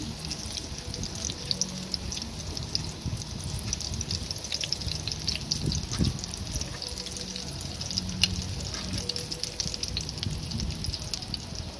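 Food pieces frying in hot oil in a home kitchen, with a steady close sizzle and scattered crackles and clinks as the fried pieces are lifted out one by one.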